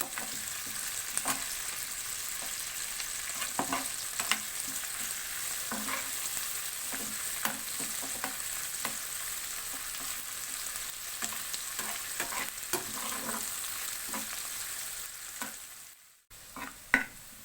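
Garlic and green chillies sizzle steadily in a pan of oil for mustard-and-bathua saag, with frequent scraping clicks from stirring, a brief hush near the end, then a sharp clatter.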